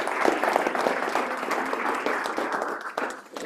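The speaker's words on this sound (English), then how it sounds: "let's give Renee a huge round of applause" Sustained applause from an audience at an astronomy club general meeting, a dense, steady wash of many hands clapping at moderate distance for the whole stretch, with no talk over it.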